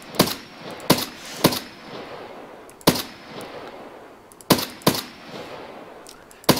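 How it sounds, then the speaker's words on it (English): Gunfire from a shooter video game cracks out in sharp, loud bursts, with single shots and quick pairs spread irregularly over a rumbling background. "Oh, they're shooting back at me?"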